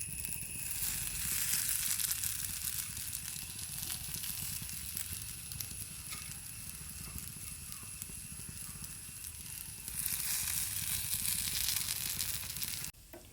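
Jackfruit pieces coated in beaten rice fry in a little coconut oil in a pan, with a constant crackling sizzle that swells louder near the start and again toward the end.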